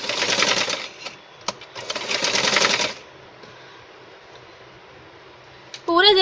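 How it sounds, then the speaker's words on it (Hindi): A sewing machine stitches a belt onto a katori blouse, running in two bursts of rapid mechanical whirring close by, then a quiet stretch before a voice begins to speak. "अब सिलाई मशीन पर जाके इस बेल्ट को इसके साथ ज्वाइन करना है"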